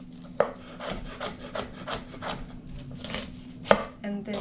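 A knife chops a carrot into half-inch pieces on a board for creamy chicken soup, giving a steady run of close, moderately loud cuts with two sharper knocks against the board and no talk.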